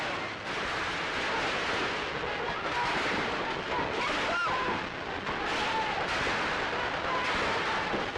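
Gunfire exchanged in a crowded Paris street during the 1944 liberation parade, archival recording with dense hiss and crackle, scattered sharp reports and distant booms under faint crowd noise.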